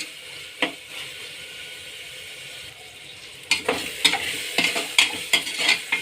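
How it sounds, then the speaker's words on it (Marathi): Vegetables and home-made masala for veg pulao are stirred and fried in oil, a soft sizzle under scraping spoon strokes that grow busier and louder in the second half, close by, with no talking. "हे सगळं व्यवस्थित मिक्स करून घ्यायचं आहे छान तेल सुटेपर्यंत गाळ असं शिजवून घ्यायचं आहे"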